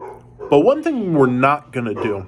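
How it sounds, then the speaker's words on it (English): A pet dog barks a few times in a home, partly masked by someone talking steadily over it. "I apologize for my dog barking."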